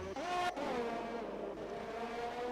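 An Alpine Formula 1 car in a racing video game at the Azerbaijan Grand Prix, its engine shrieking loud and close and shifting pitch as it passes, with a brief tyre squeal.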